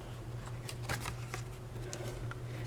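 Soft paper rustles and crisp creases as the back of a handmade peek-a-boo flap card is folded, several faint close crinkles over a low steady hum.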